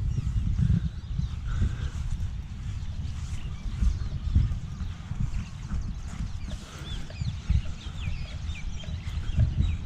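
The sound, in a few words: red bird (chicken) calling nearby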